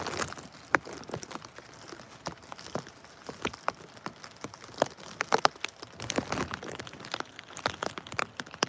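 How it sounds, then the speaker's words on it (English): Steady rain patters on a surface, with scattered sharper drips and taps landing irregularly over a soft background hiss. "It's still raining, but not as bad."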